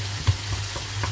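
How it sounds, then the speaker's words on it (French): Meat for tacos cooking in a pan, giving a steady soft sizzle under a low, constant hum, with one brief louder bump early on. "Bien laisser cuire ma viande."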